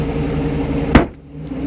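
Close-up engine hum from a 1993 Mercedes SL500, a steady drone cut by a sharp knock near the middle, then briefly dropping before the running sound returns.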